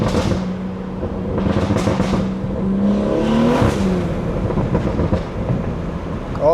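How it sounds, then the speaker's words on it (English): A 500 hp BMW 340 slows down on a drive through Maine, its exhaust burbling and crackling under a droning engine and road noise, with no talk. "Let me slow down and give y'all boys some nice burbles."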